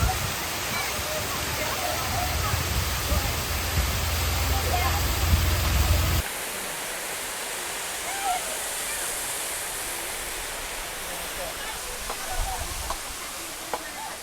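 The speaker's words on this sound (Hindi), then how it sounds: "ये है वाटरफॉल और ये बिल्कुल रोड पर है" A small roadside waterfall in Tamhini Ghat, Maharashtra, gives off a steady broadband rush of falling water, close and fairly loud, with a lower rumble for the first few seconds before the tone shifts.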